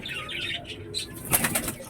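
A pigeon flaps its wings in a quick flurry of soft whooshing beats, close and moderately loud, with a faint coo in the background.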